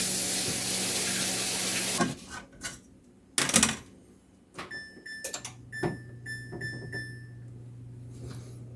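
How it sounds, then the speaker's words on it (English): A tap runs steadily for about two seconds while hands are washed under it, then cuts off; after that come a few scattered knocks and handling clatters in a quiet kitchen. "I'm just going to wash my hands."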